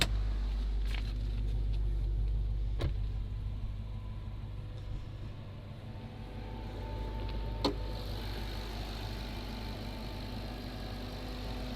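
A stock Dodge Hellcat engine idles steadily with a deep low rumble, heard from nearby with a couple of sharp clicks over the constant drone and no talking.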